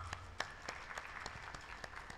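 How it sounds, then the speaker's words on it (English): Sparse applause from a small gathering at a parents and family orientation, with a scattering of separate claps rising above a faint room background, fairly quiet and brief. "Give yourselves a round of applause."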